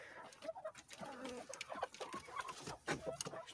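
Chickens cluck and murmur inside a coop, a soft, scattered chorus of short clucks and squawks from several hens close by, with no talking over them.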